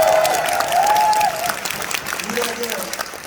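A Korean lecture audience claps at a donation project talk, a dense patter of applause running throughout while a voice speaks over it, loud at first and easing slightly toward the end.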